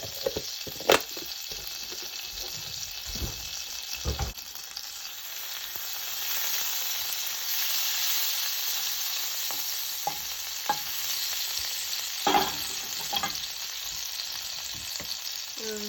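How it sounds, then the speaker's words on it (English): About a tablespoon of butter sizzles in a frying pan, a steady close hiss running throughout with scattered spatters, pops and occasional utensil taps against the pan. "We're gonna add about a tablespoon of butter to this."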